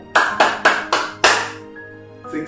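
Five crisp hand claps in an uneven rhythm during a ViBgYoR ice-breaker clapping game, close and loud, each ringing out briefly before a soft tonal ping follows.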